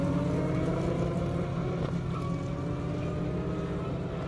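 A 1995 Toyota Supra making 1,266 horsepower races down an airstrip, its engine a steady, distant drone that stays level throughout, with no voices.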